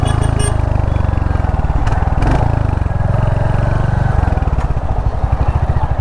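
A 2022 Royal Enfield Hunter 350 motorcycle with a 350cc J-platform engine runs up close, its loud single-cylinder thump pulsing steadily while the revs rise and fall, and a rider talks briefly over it.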